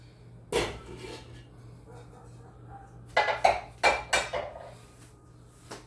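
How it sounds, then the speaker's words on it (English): Several sharp metallic clanks and clatters of a lid being placed over a cooking pot on a fire, a few spaced knocks near the start and a cluster later, over quiet background hum. "Put a covering over the pot."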